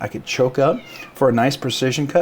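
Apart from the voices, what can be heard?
domestic cat meowing in the background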